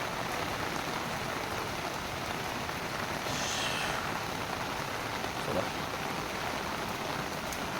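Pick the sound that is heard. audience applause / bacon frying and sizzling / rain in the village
rain in the village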